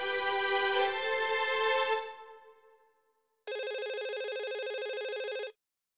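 A telephone ringtone plays twice: a bright melodic ring that fades out over a few seconds, then after a short pause a second steady electronic ring burst of about two seconds, clear and alone with no talking.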